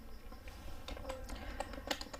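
Someone types on a computer keyboard while writing Flutter code: a quick, uneven run of close, crisp key clicks over a low background hum, with no talking.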